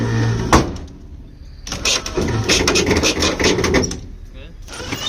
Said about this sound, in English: let's loosen the straps on the set together